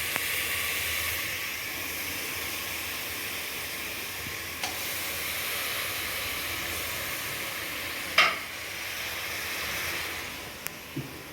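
Mutton head meat cooks in masala in a pan, a steady close sizzle and hiss broken by a few stirring scrapes and clinks, one louder scrape near the end, with no talking.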